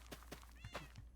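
A cat meows faintly in the Minecraft video game, a few short, quiet cries over a low steady background drone.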